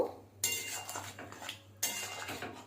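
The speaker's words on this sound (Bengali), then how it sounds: "ঘি আর একবার নাড়িয়ে নেব" Curry with ghee and garam masala being stirred in a pot, a metal spoon scraping and clinking against the sides in two distinct bouts, close and fairly quiet, with no talking.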